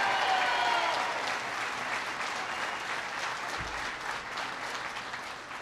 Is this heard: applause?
yes